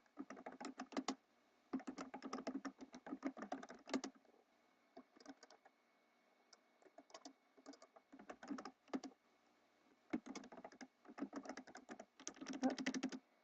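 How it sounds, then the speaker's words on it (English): Fingers type a bookmark title on a computer keyboard in quick bursts of close, crisp key clicks separated by short quiet pauses. "and then type in the title"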